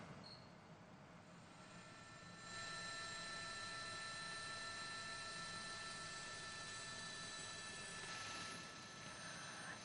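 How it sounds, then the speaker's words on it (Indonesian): Firefighting water-bombing helicopter over a Los Angeles wildfire, a steady droning rotor and engine noise that grows louder and holds throughout with a faint whine. "Helikopter pemadam dikerahkan untuk memadamkan api."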